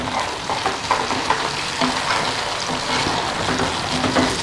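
Onions and tomatoes sauté in oil in a pan for a spicy green turkey berry curry, giving a steady close sizzle broken by repeated scrapes and stirs of a spoon against the pan, with no talk.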